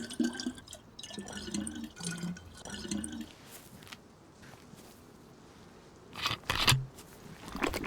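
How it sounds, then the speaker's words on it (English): Water trickling and sloshing as a bottle is filled at a fountain in the survival video game DayZ, irregular liquid bursts and drips with a louder splash near the end. "decide to fill my water bottle up again and drink it at the fountain"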